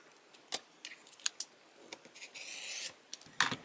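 Rotary cutter slicing a quilt block along rulers on a cutting mat, a few brief quiet cutting swipes and scrapes with a longer rasping stroke near the end, close and soft.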